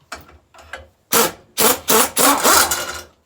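Threaded part turned loose by hand on a 1966 Gravely Commercial 10A engine during engine removal: a few short rubbing, scraping bursts, then louder grinding twists in close succession.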